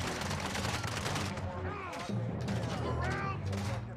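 Rapid gunfire in a shooter video game, dense bursts running steadily throughout amid other in-game effects, with players talking over the action.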